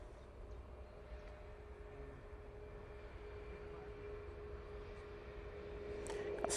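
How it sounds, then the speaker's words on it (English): A Ryanair Boeing 737-800 arriving at Manchester Airport, heard as a faint, distant, steady jet roar with a faint whine that swells slightly toward the end. "Ryanair coming in from fake Brussels next, using the 737-800"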